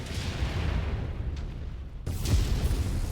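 An incoming missile explodes in MechWarrior 5 during an Annihilator ANH-1E mech fight. A sudden broad blast cuts in partway through and leaves a rumbling roar over the low hum of combat.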